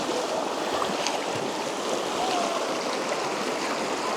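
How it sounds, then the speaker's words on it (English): Jura Creek in Kananaskis runs over a stony creek bed, a steady, close rush of flowing water with no voices. "Here's a cool little part of the creek bed."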